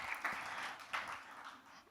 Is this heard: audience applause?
yes